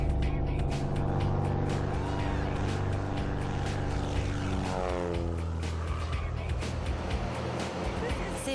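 A small airplane taking off, its loud, steady engine roar rising in pitch and then sweeping down as it climbs away, filling the whole clip with constant noise.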